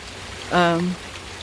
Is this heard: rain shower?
yes